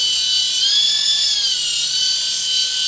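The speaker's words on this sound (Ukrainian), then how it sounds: "вертольотик реагує на руку і піднімається вверх." A small hand-sensing toy helicopter from AliExpress hovers with a loud, continuous high-pitched whine from its tiny spinning rotor, steady and close, with a slight dip in pitch midway.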